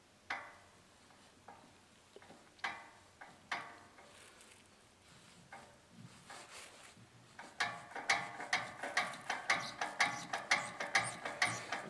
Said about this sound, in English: Now this brass is so soft that this thread cutter I'm literally turning on